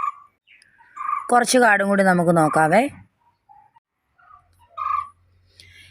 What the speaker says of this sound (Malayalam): ഇവിടെ ഒരു കിളിക്കൂട്ടൻ്റെ സൗണ്ട് നിങ്ങൾ കേൾക്കുന്നുണ്ടോ